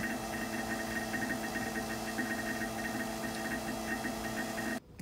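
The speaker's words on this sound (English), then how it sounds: "I'll probably have to run the vacuum pump for about 3 minutes or so, or 5 minutes or so." A laboratory vacuum pump running steadily with a constant droning hum and faint mechanical vibration, ending in a brief abrupt disturbance.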